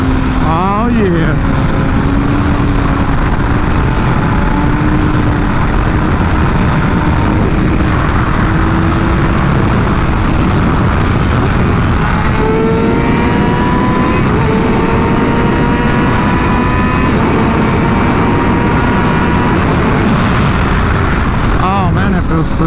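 Yamaha R6 sport motorcycle engine droning steadily while riding, with rising and falling pitch as it revs through gears, wind noise throughout and someone talking excitedly over it.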